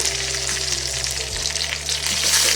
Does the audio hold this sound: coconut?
yes